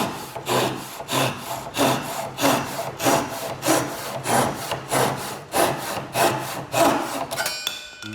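A Japanese Suizan hand saw cuts through wood in about a dozen steady rhythmic push-pull strokes. The rasping strokes are close and evenly paced, with no talking.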